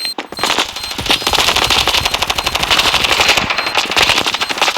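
Rapid bursts of machine-gun fire in the video game Standoff 2 rattle nearly nonstop, loud and close, with short pauses between volleys.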